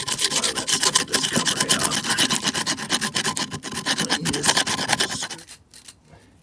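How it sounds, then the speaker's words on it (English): A hand scraper rasps paint off a concrete fountain in rapid repeated strokes, a loud rough rhythmic scratching up close that stops abruptly near the end. "But I'll just continue scraping along here."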